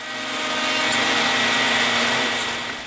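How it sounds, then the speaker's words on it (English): A jointer planes the edge of a wooden cabinet part in one steady, loud, close whirring cut that swells and fades, with no talk. "I am going to run them through the joiner and put a perfectly flat edge on each one"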